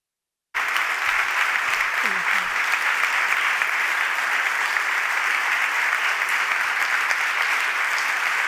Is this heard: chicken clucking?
no